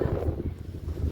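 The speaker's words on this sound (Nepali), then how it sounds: "कस्तो हावा चलेछ यहाँ हेर्नु" Wind blowing outdoors buffets the microphone in a brief, steady low rumble with soft gusts, and no one speaks.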